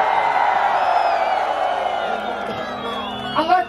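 A live audience at a winter feast comedy show cheers, whoops and shouts in a loud, sustained crowd roar that fades slightly toward the end, where a voice cuts in.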